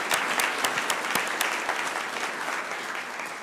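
Hearty applause from a city council meeting audience, with individual claps standing out near the front over a dense, steady patter of clapping that fills the room and fades slightly toward the end.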